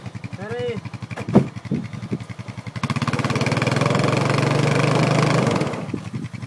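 Honda FourTrax 420 ATV engine pulling a trailer, revving up loudly into a sustained, rising drone after a few seconds of lower idling, with people talking near the start.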